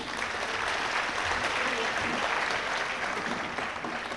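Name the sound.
audience applause for mridangam player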